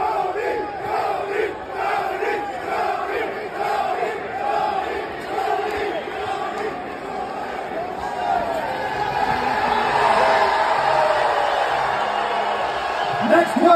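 A crowd at the UFC 279 press conference cheers, whoops and shouts in rhythmic chanting bursts, with chatter throughout and the noise swelling louder toward the end.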